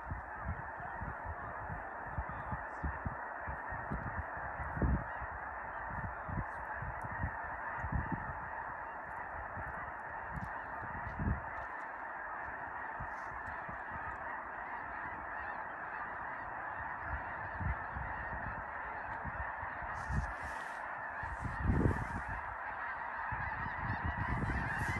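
A vast flock of about 27,000 geese takes off together at first light over Freezeout Lake, Montana. A dense, continuous wall of honking fills the air, with some louder individual calls rising out of the chorus.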